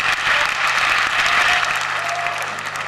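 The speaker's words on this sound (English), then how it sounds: "I think APC deserves a round of applause." A crowd at a Ghanaian APC party manifesto launch applauds in a loud, dense wash of clapping that stays strong throughout and eases a little near the end, with a faint steady hum underneath.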